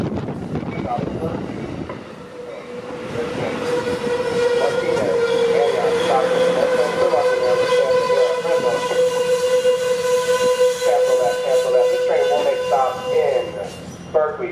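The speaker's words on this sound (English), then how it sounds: "Approaching the station is Capital Corridor, train 744 to Sacramento, track 2." An Amtrak Capitol Corridor passenger train with an F59PHI locomotive rumbles in close at Emeryville station while its horn sounds a long, sustained blast with a few short toots near the end; a voice is heard at the start.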